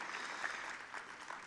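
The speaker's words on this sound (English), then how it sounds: "we'll give you a round of applause" An audience gives a round of applause for a primary school at an award event, a soft, steady patter of distant clapping that continues throughout.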